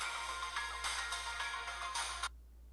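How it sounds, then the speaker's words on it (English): A phone ringtone plays as a repeating, bright electronic melody, steady and moderately loud, then cuts off abruptly near the end. "Look at my ringtone."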